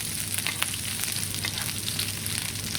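Scallops sear in a hot pan with butter and lemon juice, giving a steady, dense sizzle and crackle close up that runs without a break and with no voices.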